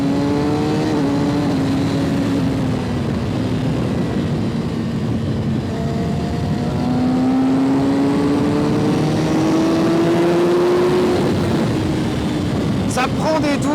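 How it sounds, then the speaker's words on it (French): A 2019 Kawasaki ZX-6R 636 with an inline four-cylinder engine revs repeatedly, its loud, close whine climbing and dropping in pitch over a constant gritty engine rumble, with a short final burst at the end. "pour écouter ce moteur incroyable, ce 4 cylindres en ligne."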